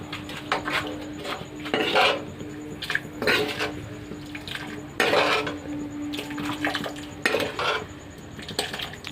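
A spoon stirs beef curry in a cooking pot, making repeated metallic scrapes and clinks in irregular bursts over a faint wet simmer, with no speech.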